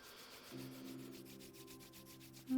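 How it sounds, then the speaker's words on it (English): Palms rub briskly together during a yoga flow, a soft, close swishing friction in a steady back-and-forth rhythm over a low sustained musical tone, quiet and without speech. "begin rubbing your palms together, creating that heat and light within."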